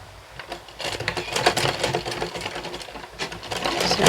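A sewing machine stitches a welt pocket seam on cloth, its fast rattling needle running in uneven bursts that build louder toward the end, close and without talk.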